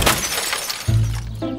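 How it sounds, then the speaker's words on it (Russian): A cartoon window shatters as a small toy car crashes into it: a short, bright crash of breaking glass up front, then lower thuds and a tonal cartoon effect. No speech. "Ты разбил окно!"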